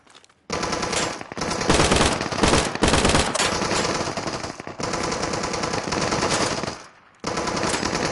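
Sustained automatic gunfire in the survival shooter Deadside, loud and dense with bursts and brief gaps, one short near-silent break before firing resumes.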